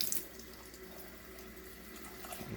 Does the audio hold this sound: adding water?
yes